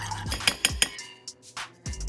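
Vegan fish burrito filling stirred in a bowl, a spoon clinking and scraping against the dish in several quick knocks over about two seconds, close and fairly quiet with no talking.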